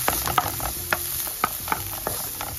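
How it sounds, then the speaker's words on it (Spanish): Garlic and onion sauté in a spoonful of oil in a pan on the stove, a light sizzle broken by a few sharp stirring clicks and scrapes, with no voices. "Esperaremos a que se sofría bien la cebolla"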